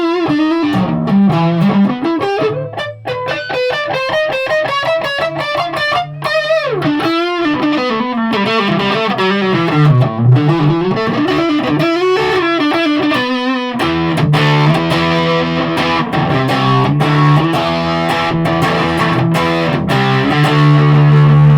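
An electric guitar with a DiMarzio Super Distortion pickup plays a continuous heavily distorted melodic line, then shifts into sustained chords with chorus-like effects, loud and steady throughout.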